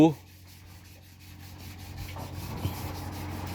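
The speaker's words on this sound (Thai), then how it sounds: "งานกว่าจะออกมาแต่ละตัวนี่ ใช้เวลานะครับไม่ใช่เรื่องง่ายครับช่างเตี้ยบอก ต้องขัดต้องถู" Workpiece being sanded and rubbed by hand in a Thai craftsman's workshop, a low steady scraping friction continuing throughout at moderate level with a brief louder knock near the start.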